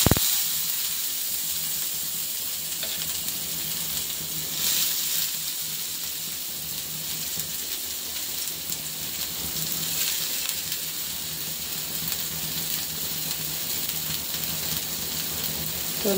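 Onion sizzles steadily in hot oil in a pan, a continuous close hiss and crackle lasting throughout, being fried as filling for oats pakora alongside garlic and curry leaves.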